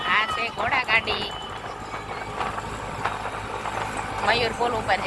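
A horse-drawn cart passes on a road, hooves clip-clopping in an uneven run beneath steady nearby talk, with some engine traffic faintly behind.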